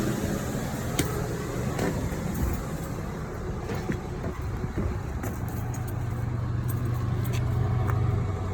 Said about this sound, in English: There you heard the clicking. It was lighting.